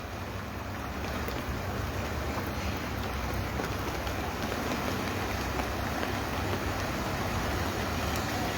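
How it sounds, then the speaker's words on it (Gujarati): Steady rain falls over Viramgam amid heavy downpour and flooding, a dense, continuous hiss and patter that holds evenly throughout with no voices. "ધીમી ધારે વરસાદ વરસી રહ્યો છે."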